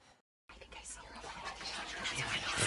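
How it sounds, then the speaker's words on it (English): Hushed whispering at a door in What Remains of Edith Finch, faint breathy hissing voices rising slowly after a brief silence, soft and close. "At the door, she heard whispering."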